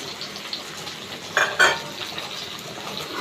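Okra frying in a pan with salt, turmeric and green chillies, a steady moderate sizzle broken by two sharp clinks of a utensil scraping and stirring, and no voices.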